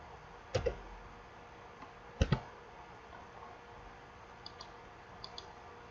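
A computer mouse clicks while someone works in ETABS structural software. Two distinct double clicks stand out clearly, followed by a few fainter ticks against a quiet room hum, with no speech.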